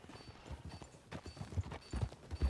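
Horse hooves clip-clop in a quick, uneven rhythm across the ground in Red Dead Redemption 2, steady and fairly close, with no voices over them.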